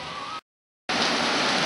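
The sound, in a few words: heavy rain falling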